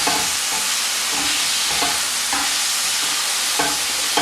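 Liver slices sizzle steadily in a hot pan, a dense continuous crackle with faint soft clicks as the pieces are turned, close and unbroken.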